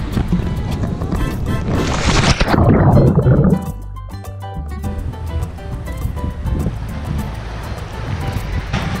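Caribbean Sea waves wash onto a beach, a loud rushing surge building and breaking near the start, then settling into a steadier, softer wash with wind buffeting the microphone.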